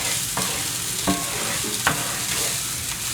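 Mushrooms and scallions sauté in a cast iron pan with a steady close sizzle, broken by three or four scraping strokes as they are stirred; no voices.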